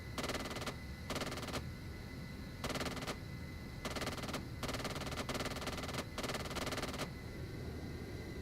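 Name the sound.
aircraft gun run, machine-gun fire, from a video game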